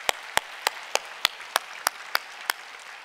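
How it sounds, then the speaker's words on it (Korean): Slow, evenly spaced claps ring out in a church congregation, about ten sharp hits in three seconds, fairly faint, with no talking. "우리 다시 한번 우리 하나님께 큰 영광의 박수를 한번 감사하겠습니다"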